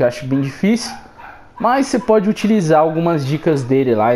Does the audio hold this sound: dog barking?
yes